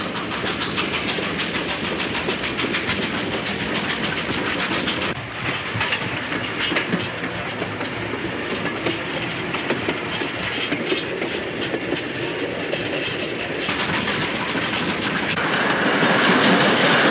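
A moving train in a 1934 serial rolls on with a steady rumble and rhythmic clickety-clack of wheels on rails, loud and close, with no talk.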